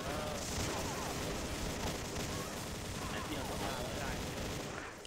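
A machine gun rattles in continuous rapid bursts in the shooter game XSHOT, loud and dense throughout, with someone talking over the gunfire.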